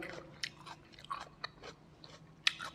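Chilled yacon (snow lotus) root bitten and chewed up close, a few crisp crunches spaced irregularly with a sharp loud bite near the end, no talking.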